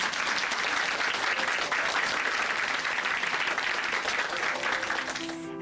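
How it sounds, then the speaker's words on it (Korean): Applause from a church congregation in Chuncheon after a testimony, dense and sustained for several seconds, fairly loud and close, easing slightly at the end as a few tonal sounds enter. "오늘 귀한 간증 전해주신 자매님께 다시 한번 박수 부탁드립니다."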